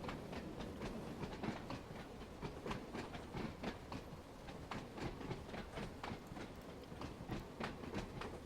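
A train rolls along with a rhythmic clickety-clack of wheels over rail joints, steady and moderately close, no voices, in Train Sim World 2 on the Isle of Wight line.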